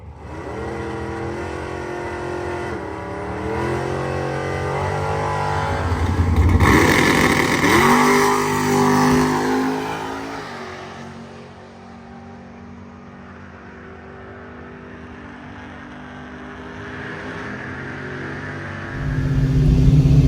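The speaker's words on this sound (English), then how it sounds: "I am sitting in the 99 Cobra, about to make the first pass in 23 years in this car." A 1999 Cobra on its first drag strip pass, heard from inside the car: a loud engine climbing in pitch through several gear changes, with a slight stumble on the 2-3 shift, then easing off to a lower rumble near the end.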